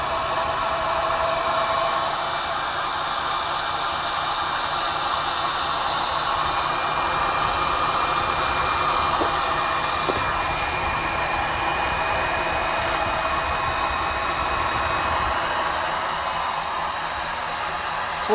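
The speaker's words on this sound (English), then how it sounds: "This little extractor's done a pretty good job for me." A small honey extractor spins steadily, giving a loud, continuous whirring drone that holds at an even level throughout, close up and with no talk.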